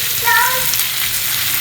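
Chopped green beans stir-frying with softened onions in a pan for a bean poriyal, a steady close sizzle with faint stirring, no voices.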